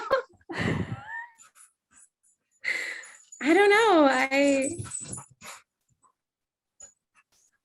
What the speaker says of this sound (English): the dog is going crazy in the background